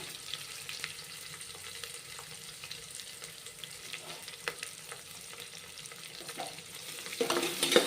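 Sliced onions and green chilies frying in a pan while making ghee rice, a soft continuous sizzle with scraping stirs and clinks, growing louder and busier toward the end.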